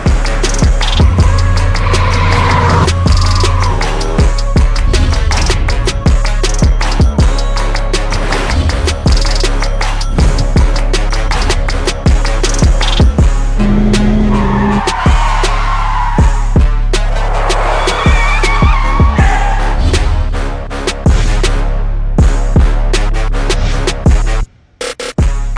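A Hyundai Elantra performs a driving stunt, with tires skidding and squealing in short bursts amid rolling road noise, taps and thumps, and several sharp sweeping tones over a steady low rumble.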